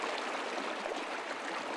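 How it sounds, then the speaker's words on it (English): Ward Creek on the west shore of Lake Tahoe flows at its summer baseline level, making a close, dense, even rush of running water that stays constant throughout with no voices. "I'm at Ward Creek on the west shore of Lake Tahoe"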